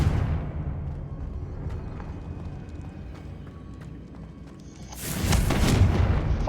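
A Confringo fire spell blast goes off in Hogwarts Legacy, a sudden loud booming burst near the end that rises over a rumbling background of game noise.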